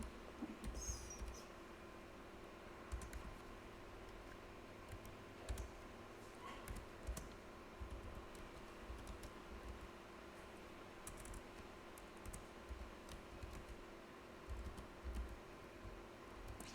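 Keys clatter in quick, irregular bursts as code is typed on a computer keyboard during a classroom coding workshop, soft and steady against faint room noise, with no one speaking.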